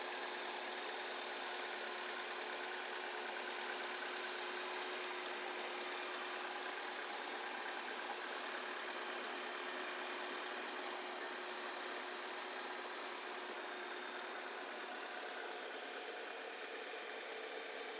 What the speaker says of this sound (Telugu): ఇంజన్ అయితే చాలా సైలెంట్గా ఉంది. ఇంజన్ అయితే చాలా నీట్గా ఉంది.